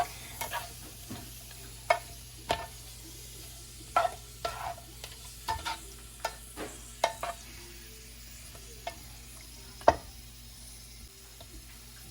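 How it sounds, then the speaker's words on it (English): Regular and jumbo shrimp being stirred in a pan with oil and garlic, with a soft steady sizzle under irregular clinks and scrapes of the utensil, close and moderate, without speech. "And we're just gonna mix them around. Try and get some of them covered in the oil and the garlic."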